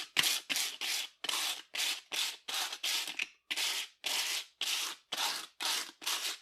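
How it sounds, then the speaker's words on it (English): Sandpaper, 180 grit, scratching back and forth over a cast concrete planter statue, a close, loud run of about fourteen evenly spaced rasping strokes with short pauses between, no voices. "You scratch the surface with the sandpaper"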